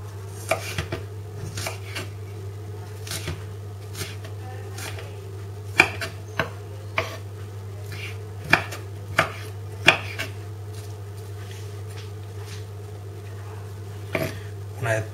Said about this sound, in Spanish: Entonces lo picáis al tamaño que más os guste.